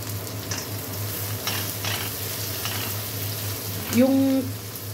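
Onions sizzle steadily in a hot pan with cooked meat nearby, a continuous close frying hiss with faint stirring scrapes, ending with a short hum-like tone.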